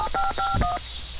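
Phone dialing tones in the video game Whack The Neighbor sound as a quick run of about five touch-tone beeps, clear and close, followed by a brief low thud.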